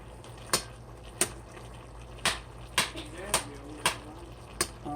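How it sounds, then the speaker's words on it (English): A spatula chops cooked rutabagas in a pan, giving about eight sharp, distinct knocks at a loose irregular rhythm, close by, over a faint low background hum. "Got my spatula here, and this is sort of just chopping them"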